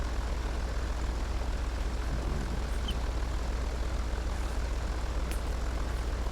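A plane engine held at idle produces a steady, unbroken droning hum with a low rumble underneath. It stays at constant loudness throughout, with no speech over it.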